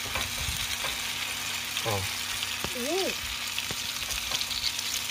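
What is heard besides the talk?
cutlets frying in a pan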